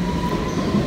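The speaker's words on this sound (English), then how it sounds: "We're waiting for the train, but we don't know how to work it." A train rumbles at a London station with a continuous low roar and a faint high squeal from the wheels, fairly loud and close, with no talking.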